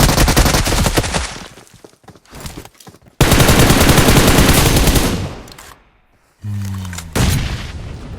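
Gunfire in PUBG Mobile, rapid close automatic bursts and heavy booming shots in loud stretches, broken by short pauses and near-silent gaps.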